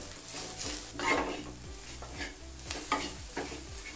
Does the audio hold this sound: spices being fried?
yes